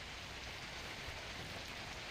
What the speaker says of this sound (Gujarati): ભારે વરસાદને કારણે પાકને ભારે નુકસાન થવાની ભીતિ સેવાઈ રહી છે